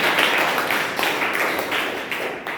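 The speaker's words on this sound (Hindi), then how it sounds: "एक बार जोरदार तालियां इनके लिए भी।" Steady audience applause at a seminar gathering, a dense continuous patter of many hands clapping at even loudness for a couple of seconds, with no talk over it.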